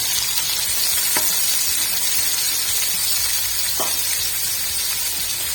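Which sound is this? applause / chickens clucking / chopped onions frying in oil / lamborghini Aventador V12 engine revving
chopped onions frying in oil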